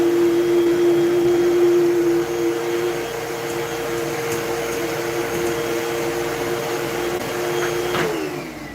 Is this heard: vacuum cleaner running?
yes